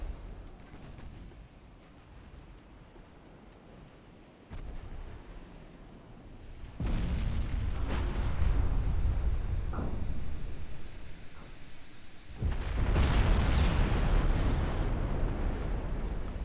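Warship secondary guns firing in a naval battle game, heavy rumbling blasts that swell into loud sustained booming, with a quieter stretch first and a second big burst near the end.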